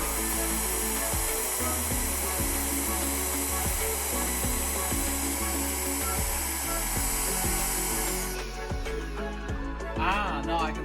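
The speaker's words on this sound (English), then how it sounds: "we're going to blitz this, whisk this now until it forms like a nice sort of thick" Electric hand mixer whisking cream with icing sugar for Eton mess, a loud steady motor whine with rhythmic pulsing, close, slowing and stopping near the end with some rattling.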